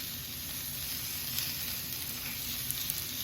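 A steak sizzles on a hot cooking rock, giving a steady, close, even hiss with a few faint crackles and no talking.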